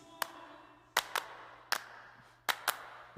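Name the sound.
hand claps in a song mix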